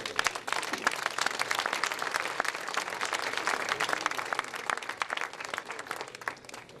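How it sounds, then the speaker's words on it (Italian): Audience applause for a regional president at a Regione Lazio public event, a dense, steady round of clapping from a full room that holds throughout and tapers slightly near the end, with no talk over it. "Mi fate sentire un applauso per il Presidente."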